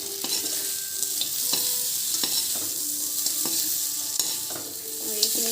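Chicken curry with potatoes being stirred and fried in a pan, a steady broadband sizzle running throughout with repeated scraping strokes of a spoon at an uneven rhythm, close and fairly loud, no talking.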